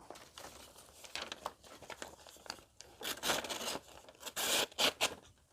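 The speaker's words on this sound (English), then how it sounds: "Oh yeah, it'll cut hair." An Ontario knife company fixed blade shaving across arm hair gives soft, dry scraping and crinkly rasping strokes, close and quiet, with a few louder passes near the end.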